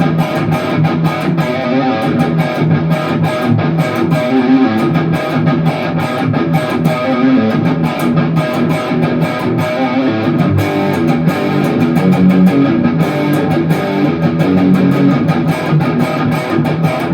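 Heavily distorted electric guitar on a metal preset plays a chugging riff through a Spark amp, loud and dense, with rapid palm-muted rhythm and no voices.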